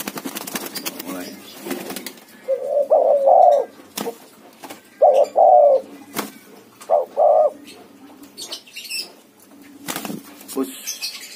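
Speckled and white turtle doves in a cage coo in a few rounded, repeated phrases, close and clear, amid rustling, wing flaps and some background chatter.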